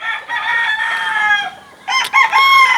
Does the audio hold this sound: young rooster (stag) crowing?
yes